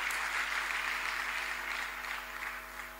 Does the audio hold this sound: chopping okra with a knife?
no